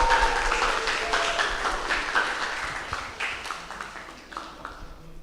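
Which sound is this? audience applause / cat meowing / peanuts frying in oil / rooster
audience applause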